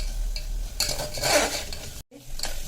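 A utensil scrapes and stirs through ingredients for a dry prawn masala rice in a pan with a soft sizzle, one stroke after another, briefly cut off near the end.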